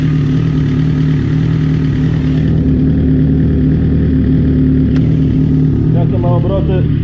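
A Suzuki GSX-R 1000 K9 sportbike, freshly serviced, idles at about 1200 rpm with a loud, steady, close-up engine drone. A voice briefly joins near the end.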